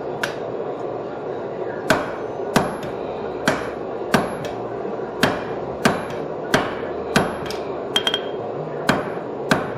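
Hammer forging a hot steel bar on an anvil to taper its end: sharp, ringing metallic blows at a steady, slightly uneven pace, about a dozen strikes, close and distinct over a quiet background.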